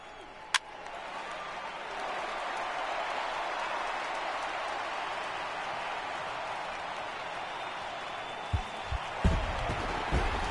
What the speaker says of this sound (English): when you can win one at home in front of your home crowd, all those fans cheering